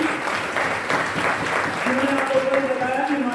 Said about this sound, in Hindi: एक बार जोरदार तालियां मिस्टर सीताराम शर्मा के लिए होगी।